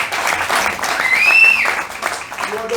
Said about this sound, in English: big applause to the security